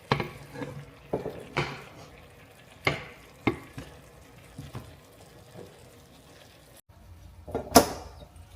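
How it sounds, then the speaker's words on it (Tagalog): A spoon stirs a bubbling pot of chicken adobo in coconut milk, with intermittent scrapes and knocks against the metal over a low simmering hiss. "Kumukulo na, haluin natin."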